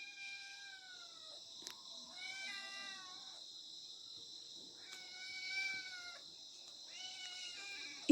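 A cat meowing at night in a home, several drawn-out, wavering cries in separate bursts, faint and somewhat distant against a steady high insect-like hiss.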